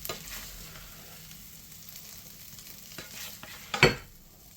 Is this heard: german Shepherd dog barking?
no